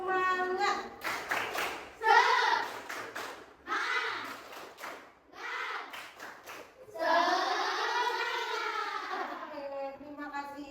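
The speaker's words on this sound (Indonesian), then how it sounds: "Baik, tepuk semangat." A classroom of children performs a spirit clap, with bursts of rhythmic hand clapping mixed with chanted voices in close, lively alternating phrases.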